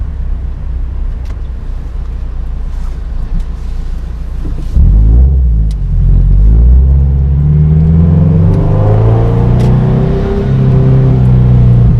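A Toyota 86 fitted with a DC Sports cat-back exhaust idles with a steady rumble, then accelerates lightly, its engine tone rising smoothly and loudly before easing off and climbing again.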